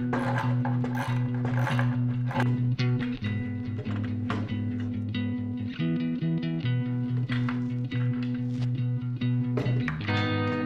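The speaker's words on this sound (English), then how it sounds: "So let's get a few more holes drilled to match all this up" Steady whining drill motor work on horizontal stabilizer parts for a T-51D Mustang aircraft build, running almost continuously near and loud, with short dips and brief mechanical clicks between holes.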